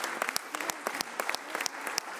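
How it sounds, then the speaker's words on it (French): A modest audience at a parliamentary simulation event claps, crisp individual hand claps standing out in an irregular patter, fairly close and alone without talk. "Je vous demande de bien vouloir les applaudir."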